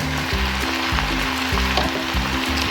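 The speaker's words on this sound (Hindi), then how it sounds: "अब इसमें शामिल कर देंगे जो मकरूनी हमने बॉयल करके रखी हुई थी" Boiled macaroni tossed into a pan of frying vegetables sizzles steadily and close, with a rhythmic scraping and stirring pattern repeating under the crackle.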